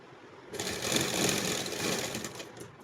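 A sewing machine runs steadily while stitching the sleeves of a plastic off-shoulder shirt, a close, continuous whirring buzz that starts after a brief quiet moment and holds to the end.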